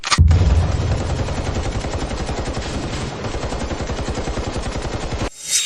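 Continuous automatic gunfire, a long rapid burst of loud shots packed tightly together for several seconds, with close, dense reports and no speech.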